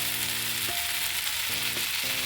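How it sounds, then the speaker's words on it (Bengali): Spices and Kashmiri chili sizzle and fry steadily in a pan for a Bengali ridge gourd dish, a loud continuous crackle with brief stirring sounds and no voices. "একটু কাশ্মীরি মরিচগুলো দিয়ে এবার ভালো করে আবারও একটু কষিয়ে নিচ্ছি"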